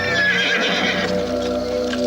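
A horse gives a loud, close whinny, with hooves clip-clopping alongside.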